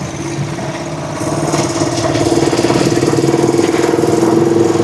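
A Rusi Chariot 175 motor tricycle engine idles close by, a steady mid-pitched chugging that grows slightly louder and firmer after the first second and holds an even pulsing rhythm throughout.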